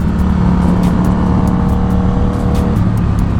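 A Honda RC51 motorcycle cruises along a road with a steady, low engine drone under constant wind rush, close and continuous with no voices.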